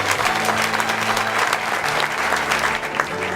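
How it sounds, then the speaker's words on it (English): Wedding guests applaud in a dense, steady burst of clapping over low background music, close and fairly loud throughout. "Give him another round of applause."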